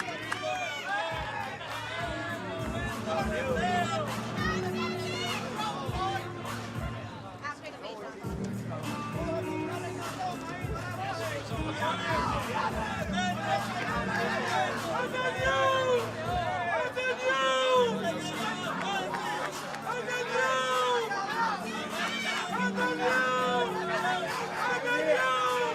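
Dense crowd chatter and hubbub fill a packed KSI vs Logan Paul 2 weigh-in hall, a steady loud babble of many voices with music-like tones running through it for the whole stretch.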